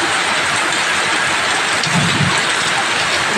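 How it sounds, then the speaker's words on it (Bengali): Heavy rain pours steadily in a dense, loud hiss that fills the whole clip, with a low rumble of thunder rolling in near the middle. "দেখো কত জোরে বৃষ্টি হচ্ছে"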